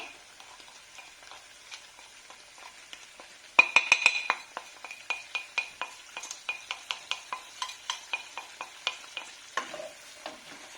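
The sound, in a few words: chicken drumsticks and vegetables sautéing in a pan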